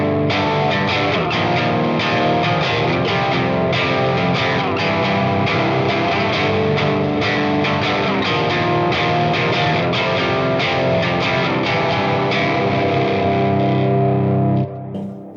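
Electric guitar tuned to drop C with a mid-gain, distorted tone and delay, shapes moved along the neck in a loud, sustained, washy stream of chords that fades out at the end.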